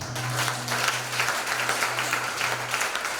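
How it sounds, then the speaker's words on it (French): A church congregation applauding during an evening praise and worship service, a steady wash of clapping that runs throughout with a sustained low tone under it. "Acclame Jésus."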